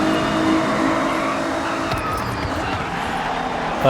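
A car overtaking during a muscle car race in the Forza Horizon 6 video game, a sustained engine roar with road and tire noise, loud and steady throughout the brief moment.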